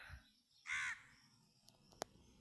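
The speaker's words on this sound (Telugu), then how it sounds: "మొత్తం ఈ టెంపుల్ చుట్టూ పక్షులే ఎక్కువ ఉంటాయి" A single crow caws once, fairly faint and distant, among birds around the Lakshmi Narasimha Swamy temple at Kalavakonda, with a couple of soft clicks afterward in an otherwise quiet setting.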